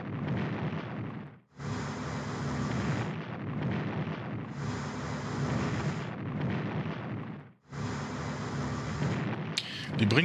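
Naval destroyers firing a shore bombardment in the WW2 strategy game Strategic Command, heard as a series of long, rumbling explosive blasts separated by brief pauses.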